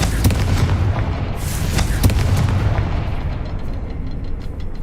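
A Confringo fire spell from the Hogwarts Legacy game bursts with a heavy boom and sharp cracks near the start and around two seconds, over a steady rumbling din that fades a little toward the end.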